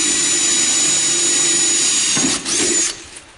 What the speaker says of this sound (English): I'm going to drill a hole right here in this side.